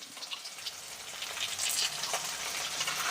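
Curry leaves and ginger-garlic paste fry in a pan with a steady, close, bright sizzle that holds throughout without speech.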